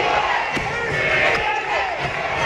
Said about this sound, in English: The crowd tried to give him a false count on the shot clock, and it backfired.